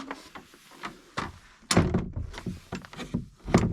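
A door opening at a remote hut on a long Lofoten crossing, with a dull thunk and creak followed by a few soft bumps and knocks close by, with no one speaking.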